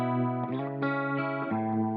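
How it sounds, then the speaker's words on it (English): Electric guitar played through a rotary speaker effect, sustained chords swirling and shifting in pitch with a few chord changes, steady and fairly loud with no voices. "So right now I've got the rotary in."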